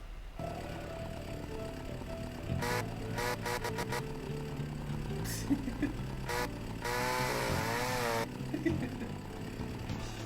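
Chainsaw in a video game: a buzzing, droning engine that rises and falls in bursts and revs, with short sharp pulses and a louder whining stretch near the end, heard fairly close and moderately loud.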